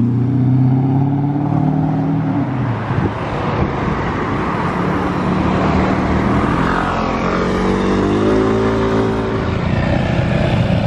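Porsche 918 Spyder hybrid supercar pulling away, a loud nearby engine and motor drone rising and falling in pitch across several seconds as it accelerates, with surrounding traffic rumble underneath.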